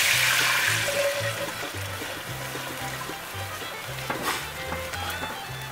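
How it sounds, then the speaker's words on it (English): Broth pours into a rabbit pot pie with a continuous close liquid stream and soft splashing, joined by a low intermittent hum and a few faint clinks. "I'm going to put the broth in"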